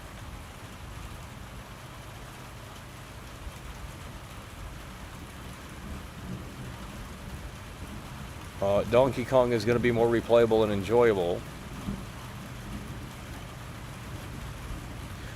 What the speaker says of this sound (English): Hopefully the storm passes.